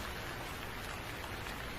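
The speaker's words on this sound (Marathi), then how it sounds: "पहिला पाऊस गारेगार पाऊस रिमझिम पाऊस तडतड पाऊस मुसळधार पाऊस" Steady rain falling, a soft dense patter that stays faint and even for the short stretch, with no voices.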